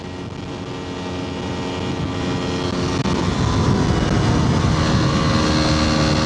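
An Aprilia RX125 motorcycle rides fast along enduro trails, its engine and rushing wind forming a steady broadband roar that swells louder after the first couple of seconds and holds there.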